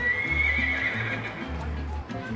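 Horses on car-free Mackinac Island, Michigan, whinny loudly up close while hooves clip-clop in an uneven rhythm along the street, with faint background voices.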